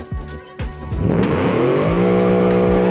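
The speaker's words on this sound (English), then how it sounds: "I just love the sound of this naturally aspirated" A naturally aspirated V8 engine in the game Automation revs hard and climbs in pitch after a couple of short blips, its rich, loud growl holding steady near the listener.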